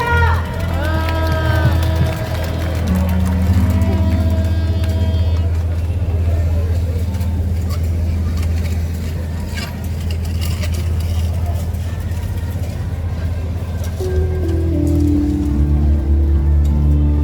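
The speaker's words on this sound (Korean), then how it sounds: "사랑의 박수 부탁드립니다" A large crowd at an outdoor national rally for the Marine Chae special counsel bill breaks into sustained applause, a dense hiss of clapping that lasts several seconds after a voice speaks briefly over loudspeakers.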